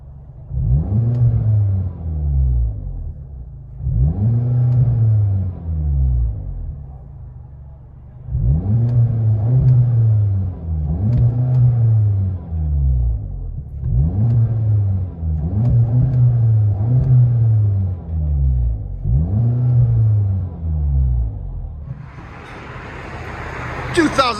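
Straight-piped 2017 Audi A3 Quattro S-Line 2.0T exhaust, cats retained, heard from inside the cabin: a series of loud, deep revs, each swelling up and dropping back, repeating in bursts with brief pauses between them.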